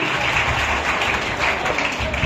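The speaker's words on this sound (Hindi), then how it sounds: "एक बार जोरदार तालियां मैम के लिए।" An audience at an award ceremony applauds, a loud, dense, steady wash of clapping that runs throughout without pause.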